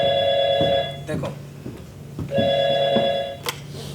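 Telephone ringing during a Hindi stage play, two bursts of trilling electronic rings separated by a pause, loud and close, with actors' voices talking around and between the rings.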